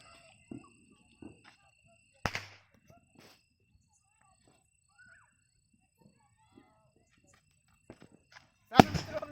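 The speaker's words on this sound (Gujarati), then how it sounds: "મરસી બમ ફોડી કે તમે જોયું હતું એવો અવાજ આવ્યો મરસી બમનો" A sharp chilli bomb firecracker bang cracks out amid near silence with a few faint knocks, followed later by a louder, closer burst at the end, at Diwali in a cotton field.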